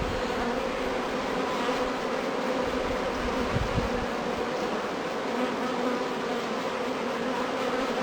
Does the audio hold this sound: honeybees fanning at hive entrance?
yes